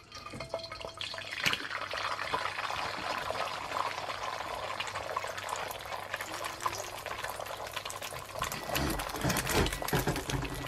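A single egg fries in a hot pan for Thai pad krapow, giving a steady, dense crackling sizzle throughout, with a few louder spits and pops near the end.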